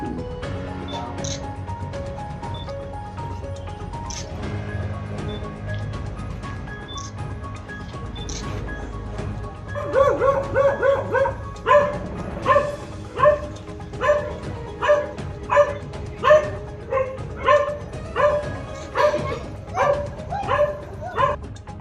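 Dogs from a police dog squad at an investigation site bark in a steady, repeated series of loud yaps that begins midway, following a stretch of other background sound.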